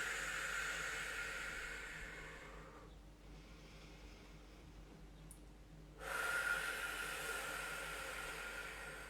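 Slow, deep breaths taken during a deep lunge stretch in a pre and postnatal running warm-up, a long breathy inhale and exhale heard close over a soft background hiss, with no talking.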